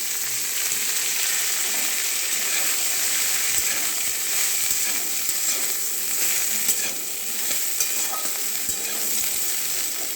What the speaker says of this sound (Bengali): ডাঁটাগুলো একটু ফ্রাই করে নিই।